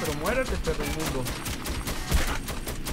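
Rapid machine gun fire in the video game Metro 2033, a dense stream of sharp bursts running the whole stretch under an excited voice talking over it.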